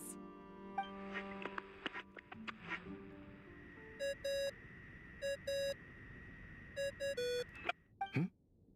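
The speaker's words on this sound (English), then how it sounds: "I really hate that ringing tone." Electronic phone ringtone in Genshin Impact, heard as repeated bursts of bright beeping tones in a short looping pattern. Softer game sound effects come before it. No one talks.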